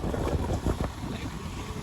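Cold wind blows across a foggy hillside near Lonavla, buffeting the microphone with loud, low rumbling gusts that swell and ease over a steady roar.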